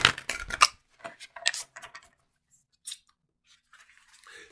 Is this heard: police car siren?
no